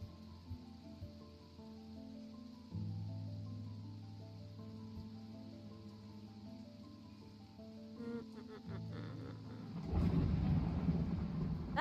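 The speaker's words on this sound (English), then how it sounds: "That thunder is loud in this game." Thunder in the video game Strange Antiquities rumbles loudly in, swelling into a broad crashing roar over steady tonal game music near the end.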